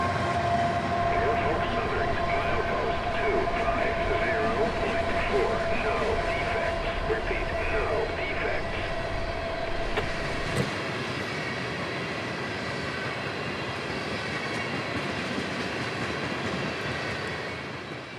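CSX freight train 64Q, hauled by EMD locomotives, rumbles past on a Florida line with a sustained, loud mechanical roar and steady wheel noise that eases slightly toward the end, with no voices.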